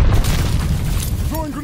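A stun grenade goes off in Call of Duty: Vanguard, a loud, dense blast that fills the whole moment with a sustained roar and low rumble, a few brief tonal chirps surfacing near the end.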